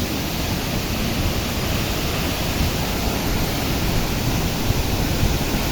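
Ranao Falls waterfall roars in a dense, constant rush of falling water, loud and close, with no voices heard.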